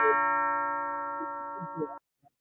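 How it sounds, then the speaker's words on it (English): A doorbell chimes with a sustained, ringing tone that slowly decays for about two seconds, with a few soft knocks or movements over it before it stops abruptly, followed by near silence. "I hear the doorbell"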